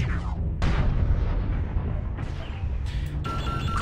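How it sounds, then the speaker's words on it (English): Heavy Gauss rifle impacts land in MechWarrior Online, producing a series of loud, booming hits with sharp onsets, closely spaced and continuous over a dense combat rumble. "someone hit me with Gauss rifles"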